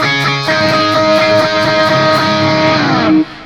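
A loud, distorted electric guitar plays a riff in octaves, the notes ringing densely together before cutting off abruptly near the end.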